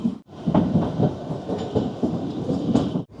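Kalka Shimla toy train at a small mountain station platform, a steady rumbling rattle of narrow-gauge carriages rolling along with rhythmic wheel clatter, fairly close and continuous for a few seconds.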